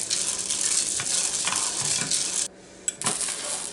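Melting cinnamon candy hearts stirred in a pot on the stove give a continuous close sizzling hiss with light scraping strokes, cutting out briefly before resuming.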